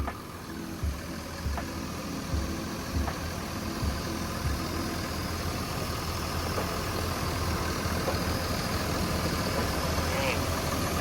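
The turbocharged six-cylinder diesel engine of a 20-ton Caterpillar 320E-2 excavator idles steadily with a low, even rumble and faint ticking, while someone speaks over it.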